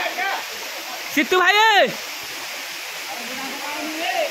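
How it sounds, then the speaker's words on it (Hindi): Bhimara waterfall gives a steady, broad rushing roar throughout. A man calls out briefly over it near the start. "भीमरा वाटरफॉल"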